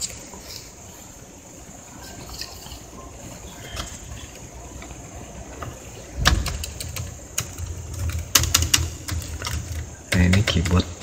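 Keys tapped on the faulty, non-original replacement keyboard of an Asus X454Y laptop whose keys do not work, during a repair. Scattered clicks and small bursts of clicks sound over a steady low background noise.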